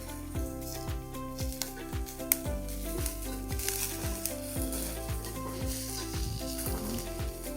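Cumin seeds, turmeric and salt dropped into a hot pan, a steady crackling sizzle with light pops, with faint tonal sounds underneath and no voices.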